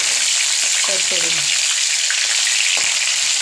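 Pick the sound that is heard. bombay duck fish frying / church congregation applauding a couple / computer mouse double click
bombay duck fish frying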